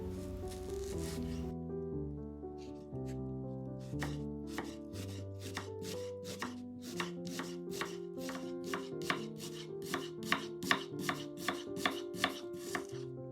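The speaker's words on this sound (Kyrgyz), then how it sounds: "Эми 2 пиязды арчып, узундан ишке кылып туурап алабыз." A knife chops onions lengthwise on a board, a rapid, even series of sharp close cuts that grows steadier, with soft music playing underneath.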